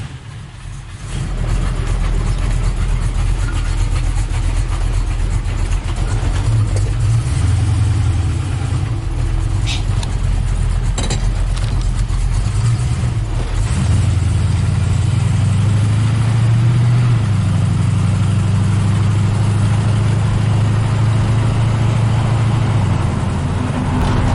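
A 1950 Chevy rat rod's engine runs loud and steady during a ride, a continuous low rumble that rises and swells midway as it pulls, heard close without talk.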